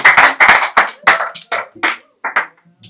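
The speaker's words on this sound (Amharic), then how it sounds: "ለእግዚአብሔር ክብር አጨብጭቡ" An audience claps in a church service led by a prophet, with the applause loud and close in several quick bursts that fade to a few scattered claps.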